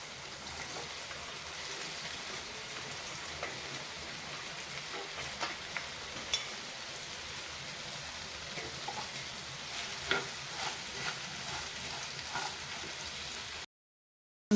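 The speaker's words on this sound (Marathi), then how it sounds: "हळद, लसूण परतून झाला की त्यामध्ये कापलेली भेंडी घालून घेते" Sliced okra sizzles in a pan with turmeric and garlic in a steady broadband fry that stays close and even throughout. A few soft clicks of stirring break in, and then it cuts off near the end.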